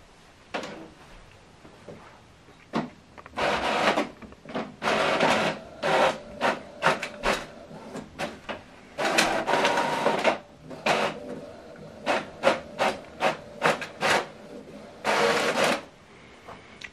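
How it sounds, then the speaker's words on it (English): An Epson ET-5150 inkjet printer prints a page: bursts of mechanical whirring and clicking from the print head and paper feed, repeating in irregular pulses with short pauses between, close and clear. "printing complete"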